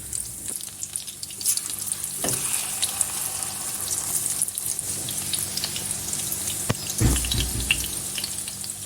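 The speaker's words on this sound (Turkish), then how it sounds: "Orta ateşte kızartılıp çabuk kızarmasın." Zucchini sizzles and crackles steadily in a hot pan over medium heat, a loud continuous hiss with occasional clinks and stirring noises, no voices.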